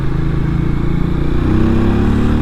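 A Harley-Davidson X440 motorcycle engine revs hard as the throttle opens toward its 6000 RPM redline, a loud, steady, close-up drone that rises slightly, with no voices over it.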